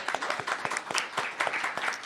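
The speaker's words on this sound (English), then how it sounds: "round of applause again" Audience at a gender equality symposium giving a round of applause, a thin, scattered patter of individual claps from a modest crowd, fairly quiet and uneven throughout.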